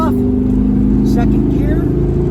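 A 1970 El Camino with Gear Vendors overdrive and paddle shifters pulls in second gear with overdrive off, its engine a loud, steady droning hum from inside the cab, and a voice speaking over it.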